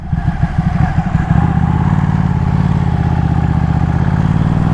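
A Ducati Panigale 1199S Tricolore sport motorcycle runs in traffic, its engine loud and close with a steady rhythmic throb that settles into an even drone after a brief uneven start.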